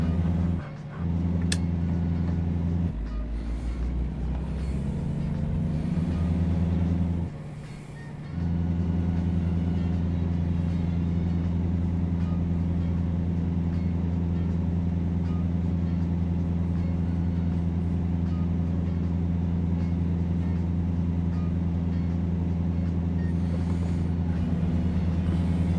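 A deep, steady truck engine rumble drones close by for the whole stretch, briefly dipping in intensity about a third of the way through.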